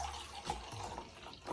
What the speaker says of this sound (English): I'll pour it in this glass here.